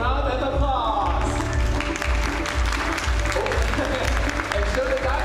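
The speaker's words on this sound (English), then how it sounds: "Please give it a big round of applause." Applause from an audience after an MOU signing at a Taipei forum, a dense steady clatter of clapping that builds after the first second, mixed with crowd voices and a low rumble throughout.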